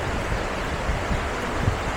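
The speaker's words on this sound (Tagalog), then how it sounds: "Non-stop rain. It's been like this for over a week." Steady, dense hiss of heavy rain pouring down without a break, broadband and constant, with faint low rumbles underneath.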